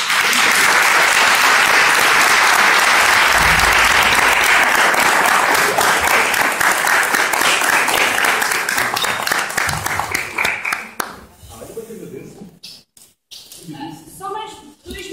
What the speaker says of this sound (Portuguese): pedir uma salva de palmas